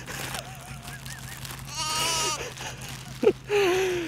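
Young lambs bleat in several separate calls at lambing time on a farm, wavering cries close by with a steady low hum underneath, the last bleat loud and drawn out.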